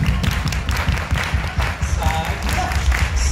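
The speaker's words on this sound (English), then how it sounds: "Everybody clap your hands." Audience in a hall clapping hands together in rhythmic unison, dense and close, with crowd noise and some voices mixed in throughout the short burst.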